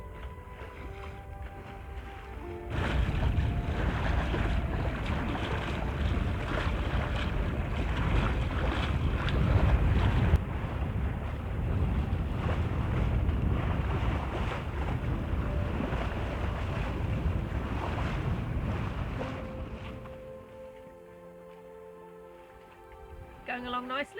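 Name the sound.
sailboat sailing in a light breeze, Shetland Islands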